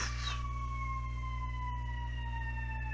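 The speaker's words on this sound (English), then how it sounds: "Oh, it's a fire truck." A fire truck siren wails faintly in the distance with a long, slowly falling tone over a steady low hum and background noise.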